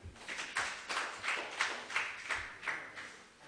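Classmates clap for a student during a chemistry quiz in a classroom, a steady run of about seven bursts of applause in rhythm, moderately loud and close.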